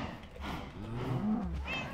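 A cow lowing in the Minecraft video game, two drawn-out moos close together, loud and alone with no talking.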